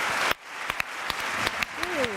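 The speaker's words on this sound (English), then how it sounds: "Round of applause for Pablo Torre, guys. Round of applause." Stadium crowd applauds footballer Pablo Torre as he is substituted during Viktoria Plzen against Barça, a steady far-off wash of clapping with a few sharper claps and an announcer's voice over it.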